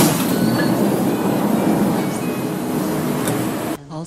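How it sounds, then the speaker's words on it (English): A 5000-series train in a Roblox city-line game rolls into a station, a loud steady rumble with faint wheel squeal and rattling, cutting off abruptly near the end. "Train is now arriving for 5 Central of Florida."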